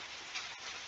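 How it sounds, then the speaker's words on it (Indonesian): Light drizzle falls steadily as a soft, even hiss of rain on a surface, with no voices. "Maaf ya kalau suaranya agak berisik karena memang sedang gerimis."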